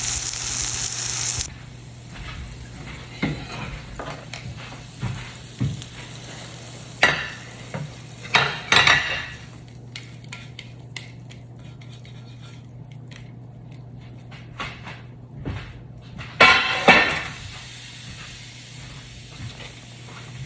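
Eggs and shrimp frying in a pan give a steady sizzle and hiss under a low hum, broken by several louder scraping stirs of a utensil against the pan, close and clear with no talk.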